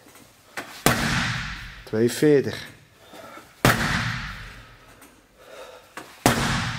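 Kickboxing punches, including body shots and uppercuts, strike a punch-force measuring pad in three loud, sharp bangs spaced a few seconds apart, with people talking between the hits.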